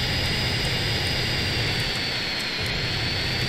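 A jet aircraft engine roars with a steady, loud, unbroken whine and rumble as the plane flies in GTA San Andreas, with no voices.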